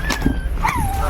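A frightened dog on a bus at a Bulgarian bus station gives short high whimpers and yips, close and fairly loud, with people talking over it.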